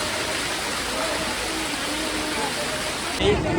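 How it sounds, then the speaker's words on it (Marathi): Heavy rain pouring down steadily, a loud dense rushing wash near Omkareshwar, with a voice briefly heard at the end. "लय खतरनाक पाऊस आलेला आहे."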